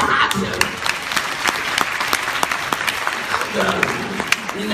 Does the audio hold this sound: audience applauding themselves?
yes